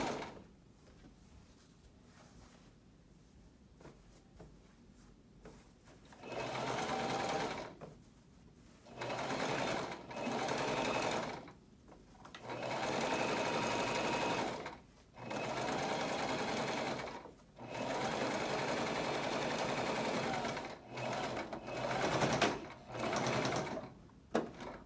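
A sewing machine stitches a PPE fabric gown in repeated bursts of a few seconds each, separated by short gaps, after a quiet opening stretch.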